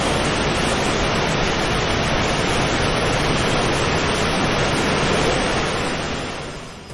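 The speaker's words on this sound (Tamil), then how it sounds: "ஆக்ரோஷமாக சீரிப்பாயும் அருவியின் சத்தம்" A roaring waterfall pours down beside a steep rock face, making a dense, steady rush of broadband noise that stays loud and unbroken, then fades slightly at the end.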